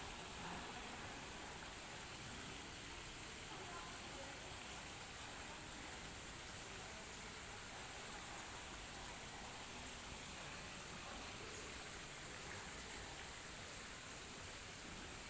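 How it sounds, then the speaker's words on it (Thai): Steady broadband rush of a small waterfall pouring into a canal outdoors among plants, a continuous even hiss with no breaks, heard fairly faint and alone without voices. "มีน้ำตกน้อยๆด้วย"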